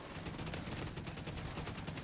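Heavy gun firing in The Division 2 shooter, a dense continuous stream of rapid automatic shots at steady loudness throughout, with no talking.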